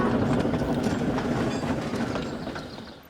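A train rumbles along the rails with a steady clickety-clack, the noise gradually fading as it moves away.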